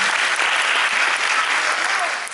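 A large audience at a junior mass band concert in Grande-Synthe applauds a trombonist, producing loud, dense, even clapping that fades slightly at the end.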